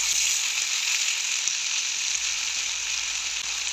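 Garlic ginger paste frying in a pan over normal heat for chicken karahi, with a steady, bright sizzle that holds at a constant level from start to finish and an occasional faint scrape.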